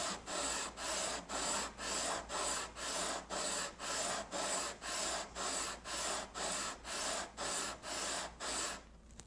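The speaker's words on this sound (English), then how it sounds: "I'll just take my radius sander and knock all these back down level" A radius sander works back and forth along a guitar fretboard, leveling it during the build of a Telecaster Thinline electric guitar. It gives a steady, close rasping scrape in about sixteen even strokes, with no talk.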